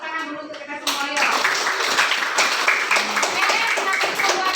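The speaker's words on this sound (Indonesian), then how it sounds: "Tepuk tangan dulu untuk kita semua yuk." Students in a classroom clap together after group presentations, beginning about a second in with a dense burst that stays steady to the end, preceded by brief talk and with voices mixed into the clapping.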